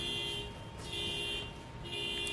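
An alarm sounds outside with a piercing electronic tone that cycles on and off about once a second, steady and loud over background street noise.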